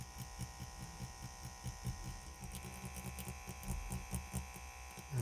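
A tattoo machine fitted with a 1RL needle and set at 5 volts buzzes in a soft, steady, rapid electric hum with faint rhythmic pulsing. It stays close and quiet throughout, with no talking.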